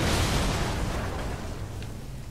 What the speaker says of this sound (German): das TNT fliegt wieder durch die Wand und explodiert irgendwo